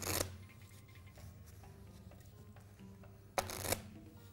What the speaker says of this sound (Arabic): مسك الورق ولخبطه في بعض بالطريقة هذه